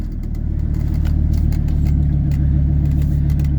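Loud, deep rumble of a 2000 Dodge Ram 2500 4x4 pickup's V10 engine while driving, a steady close drone rising slightly in intensity, with no talk.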